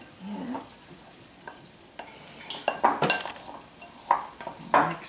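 Crepe filling with about a cup of raisins and lemon juice being mixed in a bowl with a spoon, scraping and clinking in irregular bursts, louder toward the end, with no talk.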